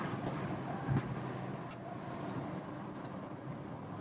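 A 1965 Ford Mustang Fastback cruising down a freeway produces faint, steady road and wind noise with a low rumble and a brief thump near the start.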